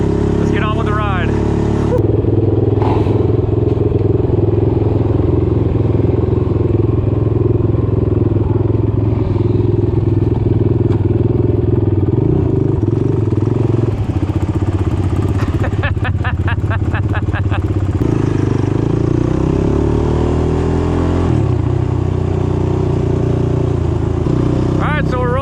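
A group of motorcycles sets off together from a house at the start of a group ride, a steady close engine rumble with some clatter and revving throughout, with people talking over it.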